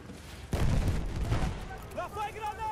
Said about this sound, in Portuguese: Lá foi granada!